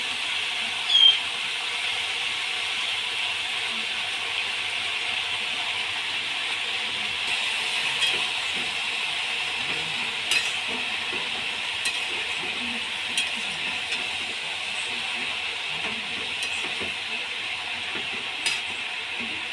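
Chopped khesari greens frying in a pan, a steady broad sizzle running throughout with a few faint stirring clicks, close and even, no talking.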